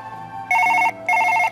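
A telephone rings inside the video game Surgeon Simulator 2013: two crisp electronic bell bursts, each a rapid trilling ring, clear and alone.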